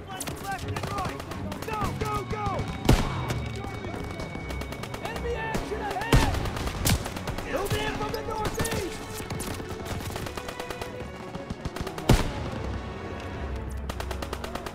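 Machine gun fire rattles through a World War II battle in Call of Duty: WWII, sustained bursts with a few heavy booms, mixed with shouting soldiers and orchestral music throughout.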